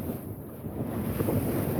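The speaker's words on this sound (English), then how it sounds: "It is the windy side, but oh well." Strong wind on the sea off the Isle of Rum buffets steadily with a rushing roar and low rumble, waves and water washing beneath it, no voices.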